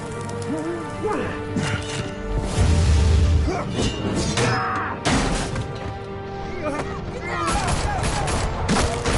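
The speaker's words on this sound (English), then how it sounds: "Why are you shooting me?" Gunshots and crashing impacts ring out at the player during a Batman video game fight, mixed with whooshes, smashes and game voices talking over the commotion.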